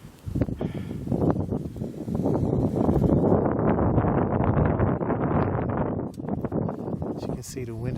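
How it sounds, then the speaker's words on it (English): Strong wind gusts steadily in a Richmond, Virginia backyard during Snowstorm Jonas, a loud broadband roar that swells and holds for several seconds with brief rustling bursts. "As you can see, the wind is picking up."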